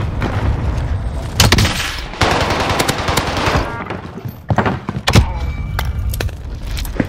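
Rapid bursts of automatic gunfire from a Warzone Rebirth Island firefight, loud and close, with sharp repeated cracks in clusters and short gaps between volleys.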